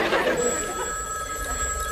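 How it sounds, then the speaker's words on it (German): A telephone rings briefly in a domestic indoor scene. The bright bell tone sits in a steady background hum. "Oh, das Telefon terrorisiert mich heute."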